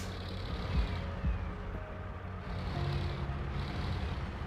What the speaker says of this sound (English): Remember I said this thing's got a weird backup alarm?